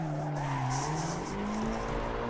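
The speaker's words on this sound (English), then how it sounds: "you can hear what I'm doing with the throttle, and you can see what I'm doing with the steering wheel as I'm drifting round" A car drifts in the Assetto Corsa racing game, its engine droning steadily at high revs as the throttle rises and falls, while a continuous tire squeal rides over it, loud and close, with no talking.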